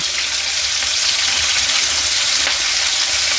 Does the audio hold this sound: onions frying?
yes